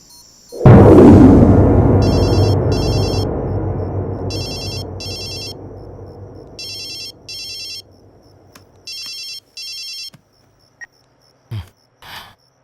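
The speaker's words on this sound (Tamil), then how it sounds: "சார் ரிங்கு போகுது யாரும் எடுக்க மாட்டேங்கிறாங்க" A telephone rings repeatedly and goes unanswered in a Tamil movie scene. A loud burst and a fading rumble open the clip, then the bright electronic ringtone comes in regular paired pulses, with a few faint knocks near the end.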